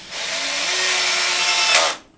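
An old cordless drill, two or three years in use and set to its highest clutch setting, whines steadily at high speed for about two seconds, loud and close, then spins down and stops.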